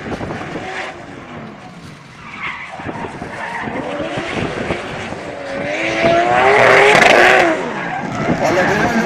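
Race car on a hill-climb style course at full throttle out of a left turn, engine rising in pitch as it climbs through the gears, growing louder near the end, with a commentator speaking over it.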